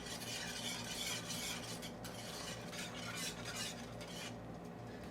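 Powdered milk being stirred into a kulfi mixture in a pan over medium-high flame: a faint, continuous scraping and swishing of a spoon in thick liquid, with a soft sizzle underneath and no voices.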